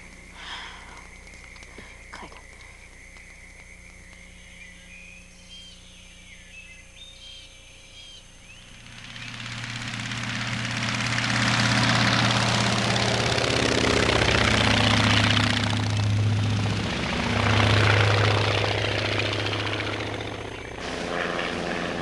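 Light aircraft engine droning steadily in flight, quieter at first, then swelling into a loud, sustained roar with propeller beat that fills most of the stretch.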